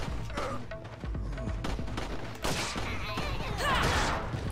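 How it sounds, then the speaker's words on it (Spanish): Scattered gunshots crack and pop in the distance amid a busy Resident Evil 4: Separate Ways game soundscape, with a few heavier thuds mixed in. "Me refiero a que se están oyendo sus disparos."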